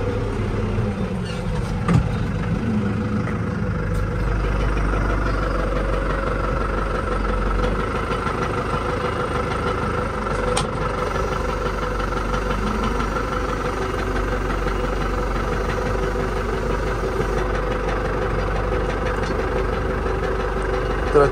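A tractor engine idles nearby during cotton picking, a loud, continuous low rumble with a steady mechanical chug and no change in speed throughout.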